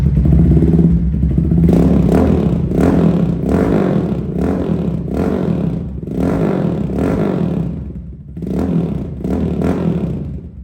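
A Kawasaki Ninja 250cc replica motorcycle revved up close, the engine climbing and falling in a series of about six throttle blips over a steady idle, loud with no talk.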